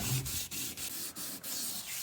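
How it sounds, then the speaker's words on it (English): Steady rhythmic wet sanding of paint on a Monte Carlo SS car by hand without a block, a wet abrasive swish repeating in even back-and-forth strokes, close and continuous with brief pauses between passes. "You absolutely have to wet sand this"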